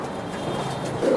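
Pigeons cooing softly in a breeding loft, a low steady murmur of coos with a slightly louder burst near the end.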